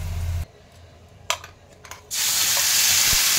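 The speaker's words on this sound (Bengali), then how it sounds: "তো আমি একটু লবঙ্গ, দারুচিনি, এলাচ ফোড়ন দিয়ে দিলাম।" Cloves, cinnamon and cardamom hit hot oil as tempering for palak paneer: a couple of clinks, then a sudden loud, steady sizzle up close.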